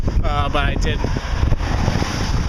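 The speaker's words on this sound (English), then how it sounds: "And it's getting really fucking windy, so sorry about that." Strong outdoor wind buffets the microphone in heavy low rumbling gusts throughout, with someone talking briefly over it near the start.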